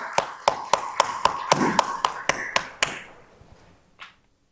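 A church congregation in Tokyo claps in praise to God: about eleven sharp, evenly spaced claps in unison at a steady beat, then a fading room tail and one faint final tap.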